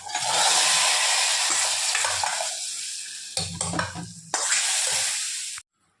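Hot oil for tempering chickpea curry sizzles loudly and steadily, rising in bursts with crackles, then stops abruptly at the end, with no talking.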